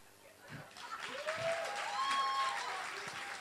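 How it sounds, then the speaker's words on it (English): A bar crowd at a nerd night talk event applauds, steady moderate clapping mixed with whoops and chatter, heard at a fair distance with the room's murmur underneath. "One final round of applause to shut the jocks up."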